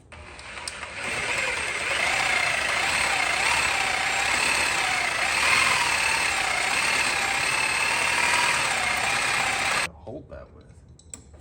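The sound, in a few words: Sawzall reciprocating saw cutting ATV shifter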